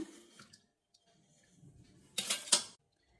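Soaked peanuts and rice go into a mixer jar, a short clatter of wet grains and a jar rattling, following quieter faint handling noises.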